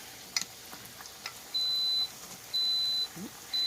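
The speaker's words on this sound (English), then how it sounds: "And there is my air fryer going off." An air fryer signals it is done with three evenly spaced, steady high beeps, each about half a second long, loud and close in a kitchen over faint background noise.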